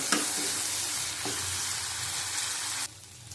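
Prawns cooked with milk sizzle loudly in a pan, a dense frying hiss with a couple of stirring scrapes before the sizzle abruptly drops off near the end.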